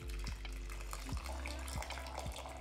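Hot water poured onto 10 grams of dried rosehips in a kitchen, a steady close splashing pour with small gurgling pulses throughout, no talk.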